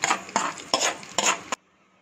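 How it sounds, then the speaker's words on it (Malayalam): Tempering poured into pineapple pachadi and stirred in, four short scraping strokes of a spoon against a vessel in quick rhythm, close and moderately loud, then silence. "ഇനി നമുക്ക് പൈനാപ്പിൾ പച്ചടിയിലോട്ട് നമുക്ക് താളിച്ച് വെച്ചത് ചേർത്ത് കൊടുക്കാം"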